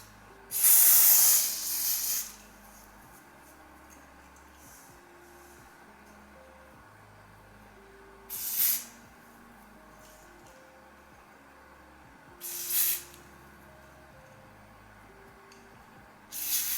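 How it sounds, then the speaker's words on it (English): Aerosol adhesive spray misted onto a lace front wig in short hissing bursts: one longer spray of about a second and a half, then three brief puffs spaced several seconds apart, close and fairly loud over a quiet background. "spraying the lace"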